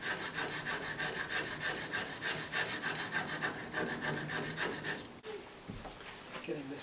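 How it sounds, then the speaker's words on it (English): A wooden part of a piano action is sanded by hand with steady rapid back-and-forth rasping strokes, close and fairly loud, with the scraping stopping for a brief quiet handling moment near the end. "So instead of lubricating, I'm going to try to sand that just a little bit."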